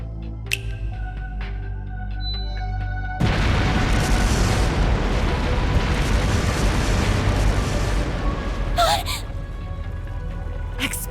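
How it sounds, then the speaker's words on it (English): Explosive artifacts detonate inside Vashtar Palace in Trails Through Daybreak, a sudden loud blast followed by sustained rumbling booms and crackling debris, with a quieter musical lead-in before it. "Explosive artifacts!"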